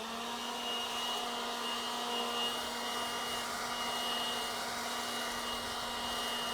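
A Milwaukee handheld battery-powered leaf blower running steadily outdoors, giving a constant high electric whine with a strong tonal hum, moderately loud and unbroken, with no talking.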